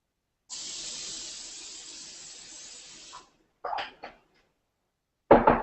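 Cooking spray hisses from an aerosol can onto a cake pan in a kitchen, one steady spray of about three seconds, followed by a couple of short clunks and handling noises.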